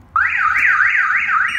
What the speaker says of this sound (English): I'm going to go ahead and pull the door open, and you'll hear the alarm go off.